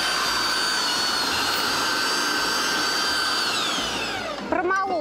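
An electric meat grinder mincing chicken hearts and gizzards whines steadily and loudly up close, its motor pitch shifting slightly before it winds down and stops at the end.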